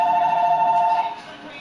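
Electronic telephone ring, a steady two-tone trill held for about a second, then cutting off and leaving a faint background hum.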